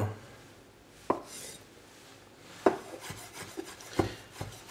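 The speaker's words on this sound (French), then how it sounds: "Émincez aussi un morceau de carotte" A knife slices through a piece of cooked carrot, saved from a pot-au-feu, on a cutting board: four or five sharp, isolated cuts spaced about a second apart, close and fairly loud over a quiet room.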